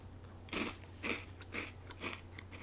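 Greek Kritsinaka croutons crunched close up in four evenly spaced bites, each a short dry burst over a steady low hum, with no talking.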